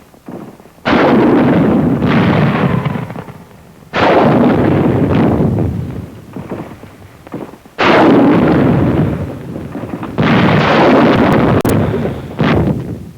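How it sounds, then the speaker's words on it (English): Wartime bazooka fire and explosions strike hillside tunnel positions in four loud, booming blasts a few seconds apart, each rumbling off into a roaring decay, heard close with no speech. "Bazookas fire on Jap tunnel positions at hill number 1"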